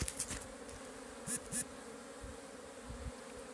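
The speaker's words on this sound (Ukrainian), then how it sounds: "Вони повилітали зі своїх вуликів" Honeybees buzz steadily in a low, droning hum around their hives at an apiary in winter, with individual bees swooping close past at moments, outdoors and without voices.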